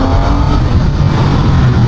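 A Honda CB500SF four-cylinder street motorcycle engine runs loud and close in a steady, dense roar, holding a high continuous drone without pauses for the whole short stretch.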